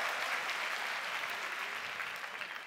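A conference audience applauds during a keynote speech, dense and sustained clapping from a large crowd that fades slightly toward the end.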